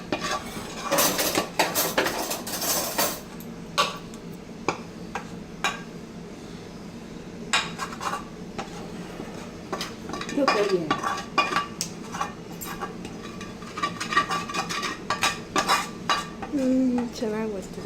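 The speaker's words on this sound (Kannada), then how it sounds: "ಚಮಚ ಬೇಕು ನನಗೆ" A metal spoon clinks and scrapes against a pan in irregular bursts while badam barfi is cooked at home, with a few quiet gaps between the clatter and a faint voice now and then.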